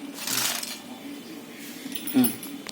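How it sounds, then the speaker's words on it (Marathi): Crisp homemade fried potato wafers rattle and clink in two short bursts, a longer jingly shake near the start and a sharper clatter near the end, close and fairly quiet. "माझी वेफर करून झाले बघा किती छान कडकुरी आवाज येतो बघा"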